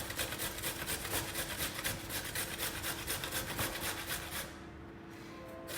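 A carrot is rubbed against a grater in quick, rhythmic rasping strokes, close and steady for several seconds, then stops abruptly.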